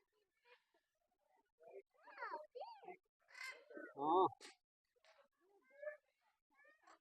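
Loud, harsh macaw squawks ring out in short bursts at Mysore Zoo, separated by pauses, with a few voices speaking between the calls.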